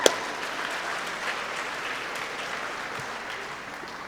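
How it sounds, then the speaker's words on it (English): Audience at a high school athletic banquet clapping steadily, a dense, even wash of applause from a crowd filling a room, holding at moderate level throughout after a sharp opening clap. "Just give yourselves a round of applause because you look so good."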